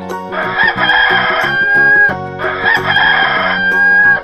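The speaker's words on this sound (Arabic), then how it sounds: "صوت الديك" A rooster crows loud and close, giving two long drawn-out cock-a-doodle-doo calls one after the other over musical backing in a children's animal-sounds cartoon.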